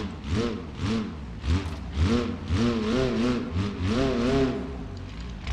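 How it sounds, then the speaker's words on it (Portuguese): A car engine with its exhaust pipe missing in the driving game BeamNG.Drive revs and drones loudly and continuously, its raw buzzing pitch rising and falling in repeated surges. "Ficou até mais bonito o barulho sem o cano mesmo."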